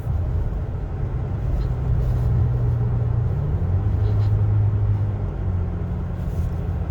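A 2021 Toyota Tacoma SR5 Trail Edition with its 3.5-liter engine runs in a steady, loud, low drone, and the pitch rises slightly midway as it pulls along, with no voices over it.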